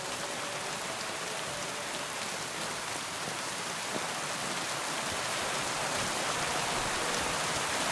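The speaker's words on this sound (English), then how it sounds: "It is rainy, lady," Rainfall in the video game Kingdom Come: Deliverance II, a steady, even wash of falling drops with a constant hiss throughout and no voices.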